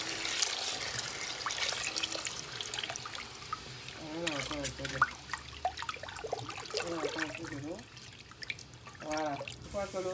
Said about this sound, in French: Maintenant, je vais mettre de l'eau.